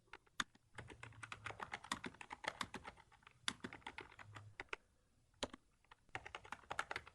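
Someone types on a computer keyboard while writing code comments, with quick irregular bursts of close, crisp key clicks separated by short pauses, quiet and without talk.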